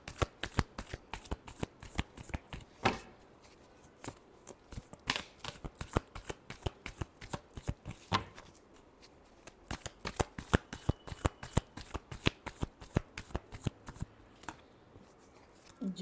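Tarot cards are shuffled over and over in rapid, crisp riffles and snaps, a long run of close, sharp flutters with brief pauses between bursts.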